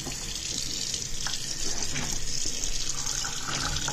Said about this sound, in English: I'm going to fill these trays up with water